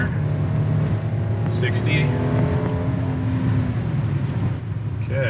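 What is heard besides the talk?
2023 Hyundai Palisade accelerating at full throttle on snow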